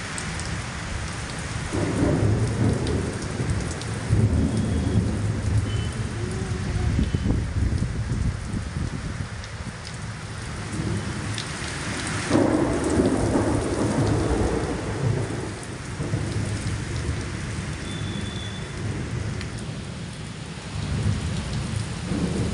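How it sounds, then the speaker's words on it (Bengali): Heavy rain pours steadily throughout, with deep rumbles of thunder rolling in repeatedly, the strongest swells building around the middle and later parts, all loud and close with no talking. "একদম বিদ্যুৎ চমকাচ্ছে, কোথায় যেন বাজ পড়ছে, কি সাংঘাতিক"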